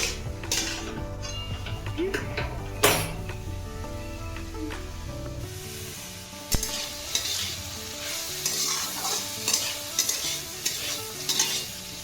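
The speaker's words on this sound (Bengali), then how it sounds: "এই সবজিগুলোকে আমি হালকা করে ভেজে নেব" Carrots, beans, cabbage and sweet corn lightly frying in a pan for chicken soup, with a continuous close sizzle and repeated scraping and knocking of a spatula stirring the vegetables against the pan.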